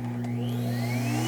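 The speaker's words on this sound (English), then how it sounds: "And as you can tell, the vacuum turned on right away." A central vacuum system starts up the moment its hose is plugged into a wall inlet. A strong motor hum kicks in at once, with a whine rising in pitch as the motor spins up.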